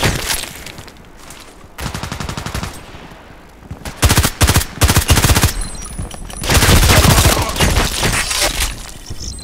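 Bursts of automatic fire from an SR3M compact assault rifle in the shooter game Contract Wars, loud and punchy, with a sparse opening and dense rapid volleys building toward the end.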